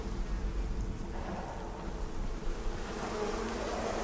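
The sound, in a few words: buzzing bees in the video game Icarus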